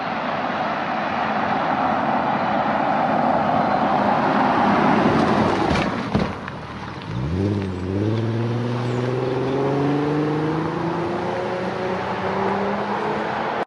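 Porsche Cayenne on a road, a steady broadband rumble of tyre and wind noise, then a brief dip and a clear engine note rising smoothly as the SUV accelerates through the gears.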